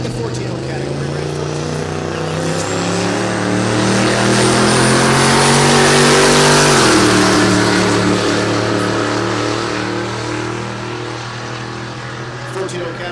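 A turbocharged Chevrolet Tahoe drag racing at Texas Motorplex in Ennis, Texas, its engine droning loud and close, swelling to a peak as it passes, then easing off as it recedes, with a commentator talking over it.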